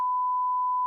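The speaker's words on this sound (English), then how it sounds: "Beep that out." A steady, loud censor beep tone held for just under a second, a pure continuous bleep standing alone with no talk beneath it.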